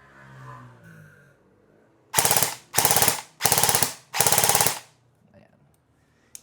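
Four rapid full-auto bursts from an ENC 854 airsoft rifle, each about half a second long, loud and close, fired in quick succession after a quiet stretch with faint background noise.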